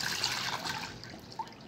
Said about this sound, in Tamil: பவுல் எடுத்துகிட்டு தண்ணி ஆட் பண்ணிக்கோங்க.